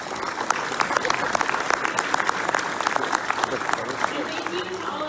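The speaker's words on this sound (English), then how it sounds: "Please give them one more round of applause." Sustained applause from an in-person audience at an annual real estate market update event, steady dense clapping filling the room for the whole stretch without pause.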